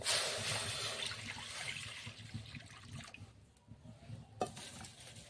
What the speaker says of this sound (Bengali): উনুন জ্বালিয়ে কড়া বসিয়ে দিয়েছি। এবার দিয়ে দেব জল।